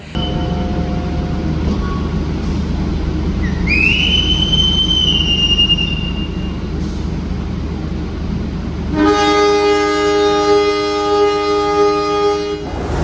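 KA Progo passenger train from Yogyakarta sounds a loud multi-tone horn in two long blasts, the second sustained for several seconds, over a steady low rumble of running carriages on the rails.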